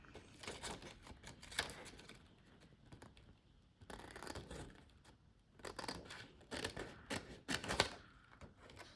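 Paper being cut with scissors for a mixed media journal tag, quiet close snips and scratchy paper rustles coming in irregular bursts with pauses between.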